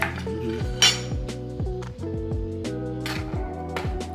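A knife clinks against a dish while cutting buffalo chicken sliders, giving a quick series of sharp metallic taps and scrapes close by, with no one speaking.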